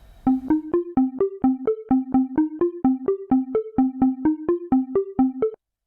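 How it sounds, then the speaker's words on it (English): A synth arpeggio repeats in a quick, steady pattern, each note ringing out fully with a sweeping filtered tone that blends into the next. "you get the entire filter sweep sounding rather than cutting off in between steps"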